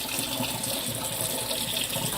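Water gushes steadily into a sink as an orchid pot is drained, a loud, continuous, close rushing splash with no talk.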